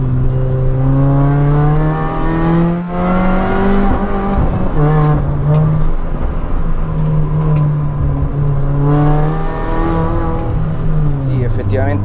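Mini Cooper S R53 on Michelin Pilot Super Sport tires sweeping through a corner, its engine a steady close-up drone with pitch rising and falling as it loads up, while someone talks over it almost throughout.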